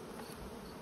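Honey bees at their hives during a heavy nectar flow, a dense continuous buzzing hum that fills the brief moment with no talk.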